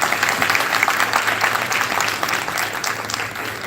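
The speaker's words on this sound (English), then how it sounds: "We have to applaud أول حاجة Professor Bagar for the effort." Applause from the audience at a clinical meeting, a steady patter of many hands clapping in an indoor room, sustained and fairly loud from start to finish.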